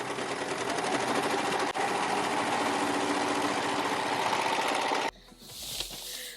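A sewing machine stitches fabric for an upcycled little black dress, running in one steady, loud, continuous burst for about five seconds before stopping, followed by a short quieter stretch of handling noise.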